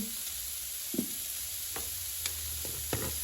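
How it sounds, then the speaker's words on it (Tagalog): Chopped onions frying in a pan while preparing lumpiang prito, a steady close hiss of sizzling oil with a few sharp clicks and scrapes from a utensil stirring, no voices. "Tapos, isunod na natin kagad ang sibuyas."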